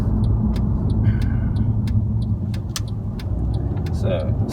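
A Mercedes C180 W204 fitted with RaceChip tuning pulls away, its engine a steady close rumble inside the car with a few faint clicks and a voice under the drone.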